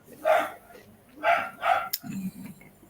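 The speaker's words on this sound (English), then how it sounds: "That dog is very loud." A dog barks three times at a moderate distance, evenly spaced, followed by a short sharp click and a low mutter in the background.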